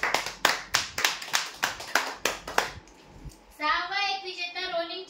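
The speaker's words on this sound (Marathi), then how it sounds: "जोरदार टाळ्या होत्या यांच्यासाठी" A crowd claps loudly for a weekly prize draw winner who takes a dressing table, a few seconds of brisk, steady applause that stops before a voice begins speaking.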